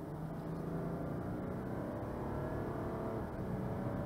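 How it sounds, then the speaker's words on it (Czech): Audi Q8 50 TDI with a V6 diesel engine runs with a steady, dense low drone, a continuous even engine hum from inside or near the car, heard without talk. "Motor je takovej hutnej, poctivej, má vcelku příjemný zvuk a je ochotnej s váma začít hejbat"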